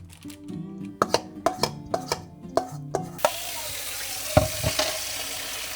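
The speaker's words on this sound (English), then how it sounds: "I'm immediately soaking the bowl in water with some dish soap so that the batter does not crust to the bowl" Tap water runs into a mixing bowl being soaked with dish soap in a home kitchen after baking banana bread, a steady hiss of flowing water starting midway, preceded by a series of sharp knocks and clatters.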